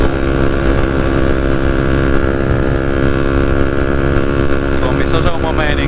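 KTM 125 Duke motorcycle engine droning steadily and loudly while riding, a continuous harmonic hum with wind noise, and someone talking over it throughout.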